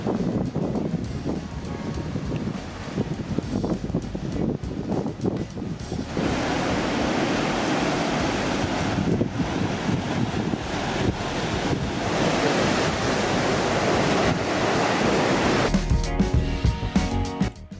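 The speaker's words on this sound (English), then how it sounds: "We went on an extremely windy day, which made it a lot more fun to see the water hitting the rocks." Sea waves crash against columnar basalt rock formations on a very windy day on Jeju Island, a loud continuous roar of surf and spray with heavy wind buffeting the microphone throughout.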